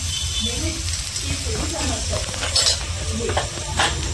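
Potato filling for vada pav being sautéed in a pan, with a steady sizzle and scraping, clinking stirs of a utensil against the pan, close up and continuous, while a voice talks faintly in the background.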